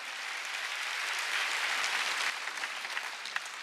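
A church congregation at a Sunday worship service breaks into sustained applause, a dense, even wash of clapping that holds steady and then thins toward a few scattered claps.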